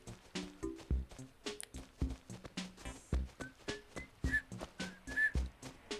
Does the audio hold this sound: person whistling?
yes